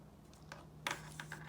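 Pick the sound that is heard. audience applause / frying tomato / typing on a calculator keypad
typing on a calculator keypad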